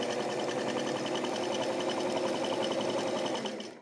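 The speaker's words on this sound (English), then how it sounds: "Stitch these two panels together." A sewing machine runs steadily, stitching two fabric-scrap panels together for a pair of pants, producing a continuous fast mechanical whir and rapid needle chatter that is loud and close, easing off at the very end.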